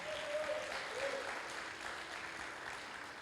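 Youth congregation at a Pentecostal church service applauding in the sanctuary, a steady, fairly faint wash of clapping with a voice briefly audible over it.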